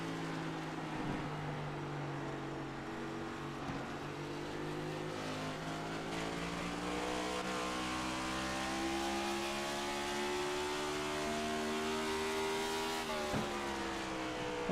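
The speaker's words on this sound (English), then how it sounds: "What a great noise that is from these cars." Next Gen NASCAR race cars with 5.8-litre engines race at New Hampshire, their sustained engine drone rising and falling as the cars lap, heard steadily from a distance.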